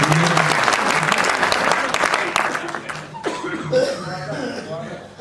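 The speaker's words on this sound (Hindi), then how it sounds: "एक बार आप तालियां बजा दीजिए" Audience applause at a Hindi poetry recital: a dense, loud burst of clapping that fills the first three seconds, then thins out and fades, with scattered coughs and a few chuckles from the crowd.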